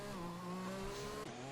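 A race car passes in a racing simulator during a qualifying session at a Netherlands circuit, its engine a steady loud drone whose pitch holds and then drops as it goes by, with no talking.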